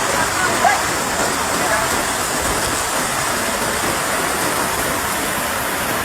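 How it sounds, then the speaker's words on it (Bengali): Heavy rain pours down steadily in a dense, constant roar with no breaks, close and loud, during flooding along a riverbank. "প্রচুর পরিমাণ ভারী বর্ষণ হচ্ছে"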